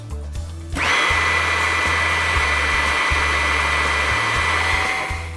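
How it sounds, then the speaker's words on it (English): A Huck 940 hydraulic Powerig starts up and runs at a steady, loud whine with a pulsing low hum while fluid flows through it to bleed the unit, then begins to wind down at the end. "At this point, we're just allowing fluid to flow through the rig and to bleed the unit."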